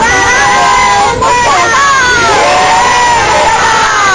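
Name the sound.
crowd chanting slogans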